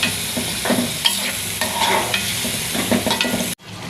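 Beef cooking in a pan with ground turmeric, chili, coriander and cumin stirred through it, a close sizzle broken by repeated scraping stirs, then cutting off abruptly near the end; no talking.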